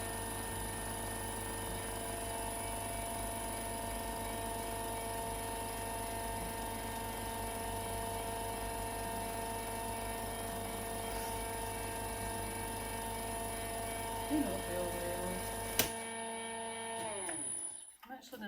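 A Peter Pugger VPM-7 pugmill loaded with clay runs with its vacuum on, giving a steady mechanical hum with tonal whine that continues evenly before cutting off near the end.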